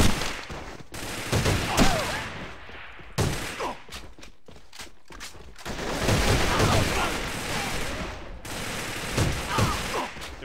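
Rapid bursts of automatic gunfire from the Talisman gun in the shooter game AVA, loud and close, firing in several long strings separated by short pauses with faint talk in between.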